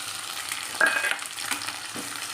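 Tomatoes fry in a pan of browned ingredients for Kannada-style bisi bele bath, giving a steady close sizzle with a louder crackling burst partway through and soft stirring scrapes, no talking.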